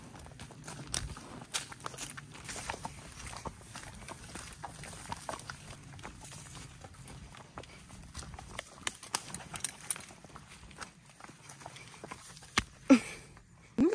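Pony hooves clip-clop at a steady walking rhythm along a new, unfamiliar path, each footfall distinct and fairly close, with a few sharper knocks near the end and no talking over them.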